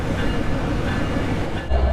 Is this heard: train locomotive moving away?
yes